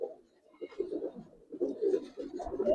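Bagha Giribaz silver pigeons coo in low, throaty, repeated phrases, close up and moderately quiet, the rolling calls swelling in a couple of bursts.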